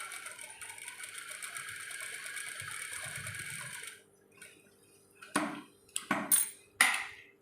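A sewing machine stitches a buttonhole in a shirt, whirring steadily for about four seconds before stopping. A few sharp clicks and handling knocks follow at close range.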